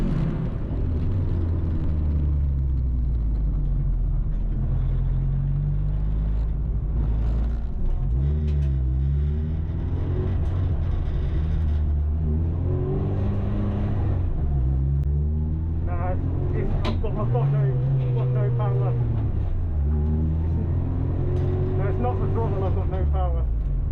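A Renault Clio race car laps the Cadwell Park circuit during a trackday championship race, its engine droning steadily and rising and falling through the gears, while a voice talks over it throughout.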